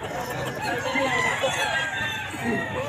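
Many roosters at Grotto Pet Market, a Sunday market, crow and cluck continuously amid bustling crowd noise, with faint voices mixed in.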